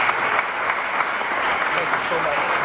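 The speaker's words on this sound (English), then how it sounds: "y'all give him a round of applause." Audience applause at a Martin Luther King Jr. commission ceremony in Harrison, Arkansas: a loud, continuous crowd clapping that holds steady for the full few seconds.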